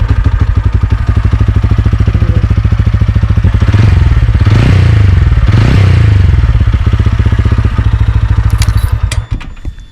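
A TVS Ronin 225 motorcycle engine runs close up with a deep, steady idle thump, revved twice mid-way into a rising roar, then settles back before cutting off near the end.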